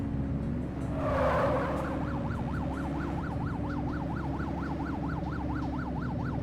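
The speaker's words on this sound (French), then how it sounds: "activez vos gyrophares et votre sirène" A police car siren wails in the video game The Precinct, sweeping up and down in a fast continuous cycle over a loud engine rumble, close and unbroken throughout.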